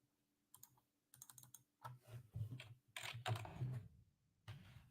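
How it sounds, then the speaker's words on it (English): Bursts of clacky mechanical keyboard typing close up, quick key presses in uneven runs separated by short pauses, during a podcast-style chat. "I got a mechanical keyboard"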